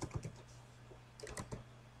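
Keys clack on a computer keyboard while code is entered in a spreadsheet macro editor: a few quick, faint taps near the start, then a second short cluster of keystrokes, over a steady low hum.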